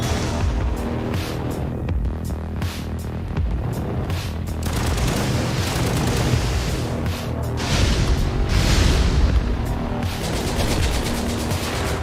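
Gunfire and deflected bullets in the action video game Katana Zero, a dense loud wash of shots, booms and impacts over game music, with no speech.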